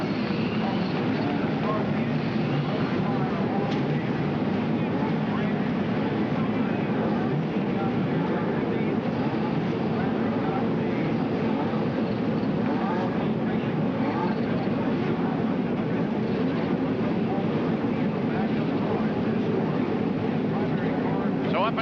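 A field of 1992 CART IndyCar race cars fires up at Road America, Elkhart Lake, making a dense, steady roar of many engines that stays loud and unbroken throughout.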